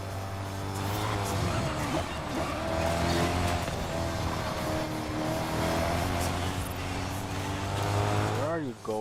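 Racing car engine in Forza Horizon 5 revving hard and shifting gears quickly, a loud continuous whine that repeatedly steps in pitch, with a short tire squeal near the end.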